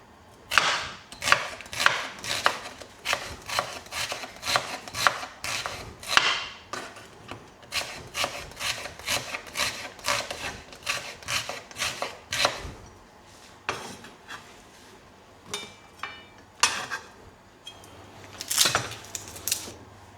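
A knife slicing ingredients thinly on a cutting board while scrambled eggs are prepared: a long run of crisp, rapid, close-up chops in uneven bursts, with brief pauses and a few scraping strokes.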